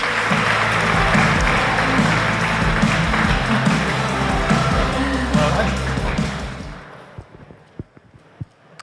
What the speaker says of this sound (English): Yeah, round of applause, well done.